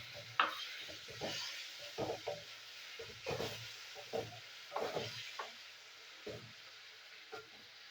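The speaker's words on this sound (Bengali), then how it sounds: "টমেটোটা আমি কষিয়ে নেবো মশলার সাথে।" Chopped tomato cooks with spices in a pan for ghugni, a soft steady sizzle broken by repeated scraping stirs of a spoon, close and fairly quiet.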